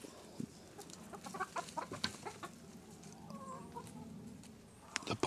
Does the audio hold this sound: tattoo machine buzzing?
no